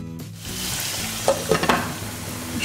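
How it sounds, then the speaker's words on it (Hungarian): Two duck breasts sizzle in a little oil in a pan beside apples and onions, a steady fry with sharp spitting crackles and stirring clatters, close and fairly loud with no talk. "a két kacsát is feldobom sülni"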